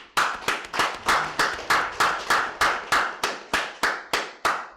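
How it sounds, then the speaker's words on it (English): A congregation at a Sabbath service claps in unison, sharp, evenly spaced claps landing about three times per second in a steady rhythm, loud and close, with no talking. "Clap it up."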